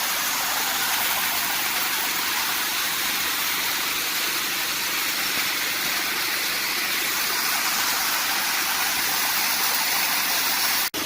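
Small seasonal waterfall at Valparai, a steady loud broadband rush of falling water filling the scene without pause, with no voices.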